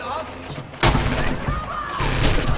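Rifle fire in Red Orchestra 2: Heroes of Stalingrad, a sharp loud shot followed by a dense stretch of battlefield gunfire, with voices talking over it.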